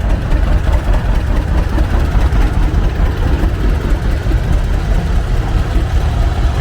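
A Model A antique tractor engine runs steadily at an outdoor antique tractor show and parade, a continuous loud low-pitched chug with no talk over it.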